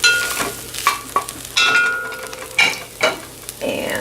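Vegan Lightlife sausage crumbles stirred around in a pot, with a steady sizzle broken by several scraping strokes of the spoon, close and fairly loud with no talking.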